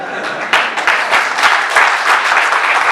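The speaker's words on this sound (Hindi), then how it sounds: "शानदार तालियां तो पूरी इस बात पे बजेंगी" A comedy show audience in India breaks into applause, dense clapping that swells and stays loud and steady throughout, with scattered sharper claps standing out near the front.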